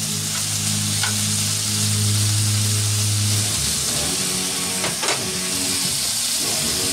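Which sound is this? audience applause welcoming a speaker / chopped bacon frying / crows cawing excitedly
chopped bacon frying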